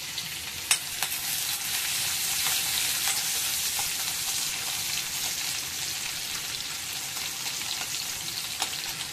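Onion sizzles in hot oil with cumin and curry leaves, a continuous bright frying hiss with occasional sharper pops and crackles, close up and steady throughout.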